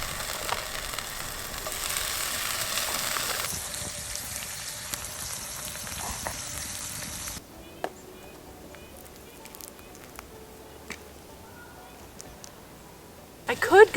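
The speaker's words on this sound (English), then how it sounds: "So we're gonna fry these up." Lightly smoked wild pink salmon fillets seasoned with black pepper fry in a pan at a lakeside campsite, giving a steady hissing sizzle that cuts off halfway, leaving quieter scattered clicks and soft background sound.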